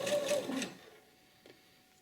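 A sewing machine stitches a zipper seam on a garment with facing and lining. It gives a short, steady burst of close mechanical stitching that stops after under a second, leaving near silence.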